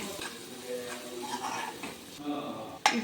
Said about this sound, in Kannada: 1 ಚಮಚ ಶುಂಠಿ ಬೆಳ್ಳುಳ್ಳಿ ಪೇಸ್ಟ್ ಹಾಕ್ಕೊತೀನಿ. ಇದು ಸ್ವಲ್ಪ ಬಾಡಿಸ್ಕೊತೀನಿ.